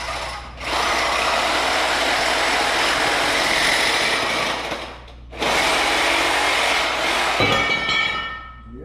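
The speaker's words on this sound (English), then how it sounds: "We're obviously getting new exhaust. We're going to just cut it off." A power tool saws through the old exhaust on a 1972 Chevy C10 pickup, cutting loudly and steadily for several seconds. It breaks off briefly, then resumes, with clinks and rattles near the end.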